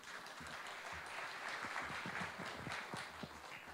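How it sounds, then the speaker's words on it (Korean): An audience applauds to welcome the mayor of Hwaseong at a citizens' regional meeting, a steady, fairly distant wash of clapping that holds at even strength for the few seconds. "큰 박수로 맞이해 주시기 바랍니다"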